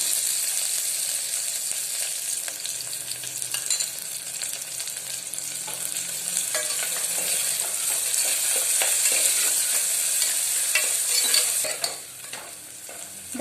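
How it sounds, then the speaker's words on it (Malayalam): Chopped shallots with a pinch of salt sizzle in a pan while a spoon stirs them, a steady close fry with scraping strokes that eases near the end. "ഇനി നമുക്ക് ഇതിലേക്ക് അരിഞ്ഞു വെച്ചിരിക്കുന്ന ചെറിയ ഉള്ളി ഇട്ട് കൊടുക്കാം."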